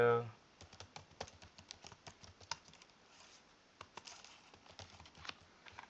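An address is typed on a computer keyboard while booking a Schengen visa appointment, a quick close patter of key clicks in uneven bursts with brief pauses, preceded by a short voice.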